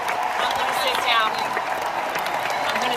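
Audience applause from a standing ovation at the Grammys, a steady wash of clapping with a brief swell partway through and voices talking under it.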